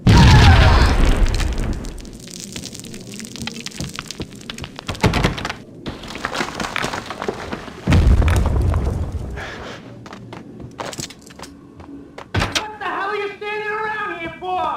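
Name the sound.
bombing explosions in Max Payne video game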